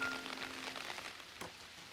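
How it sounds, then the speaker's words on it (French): Steady rain falling in a Miffy cartoon, a continuous soft patter of drops with a faint tonal hum at the start, no talk. "elle fut rassurée de voir que Miffy n'était pas trempée par la pluie"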